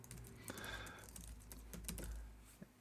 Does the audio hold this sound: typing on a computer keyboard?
yes